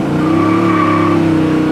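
A 1966 Chevelle SS V8 with a lopey cam sits idling at about 800 RPM, giving a steady, loud, close rumble with an uneven throb and no voices over it.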